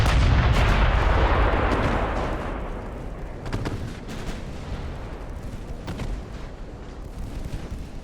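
Naval gunfire from 5-inch secondary guns aboard the battleship Indiana in the Ultimate Admiral Dreadnoughts game, with a heavy rolling boom at the start, then repeated sharp distant reports over a rumbling battle bed.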